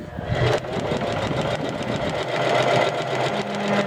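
A sewing machine stitches a pocket cloth diaper, its needle running in a steady, fast, close-up mechanical rhythm for the whole stretch without pause.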